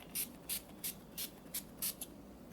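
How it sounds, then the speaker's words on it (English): NYX Dewy Finish setting spray misted in six short, evenly spaced bursts, each a soft close hiss with brief pauses between, alone with no talk. "I totally forgot to use the NYX Dewy Finish Setting Spray"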